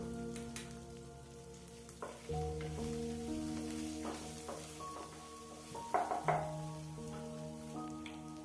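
Onion and garlic paste frying in a pan for a jackfruit curry, a steady close sizzle with scattered stirring scrapes and clatters, no talk.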